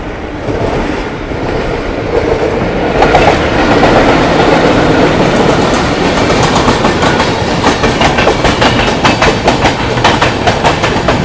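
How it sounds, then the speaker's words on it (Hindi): The Mumbai–Pune Intercity Express rumbles loudly close by on a parallel track, with a steady roar of wheels on track and a rhythmic clickety-clack that builds as it runs alongside. "पीछे से Mumbai Pune intercity express chess करते हुए आ चुकी है।"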